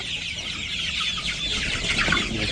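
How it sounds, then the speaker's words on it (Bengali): Roosters and hens clucking at a chicken farm, a steady chorus of overlapping clucks and bird calls at moderate distance, continuous for a few seconds with no talk. "এই যে মোরগই বেশি হয়েছে, মার্শাল্লাহ মোরগ বেশি হয়েছে।"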